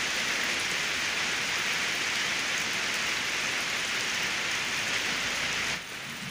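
Heavy rain pours steadily on a car while driving, a dense constant hiss that fills the cabin before dropping away abruptly at the end.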